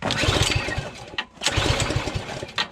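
A Powersmart 26-inch snowblower's engine is cranked by its rip cord twice, each a loud roughly one-second rattling pull, close up, the engine not catching, with a brief pause between pulls.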